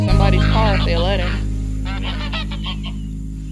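Geese honking at Liberty Park in Clarksville, near and loud: a burst of nasal, wavering honks, then several shorter calls over a steady low hum.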